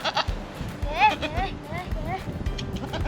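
A lamb bleats several times in short wavering cries amid outdoor background noise and people talking nearby.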